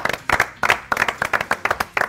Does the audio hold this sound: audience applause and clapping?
yes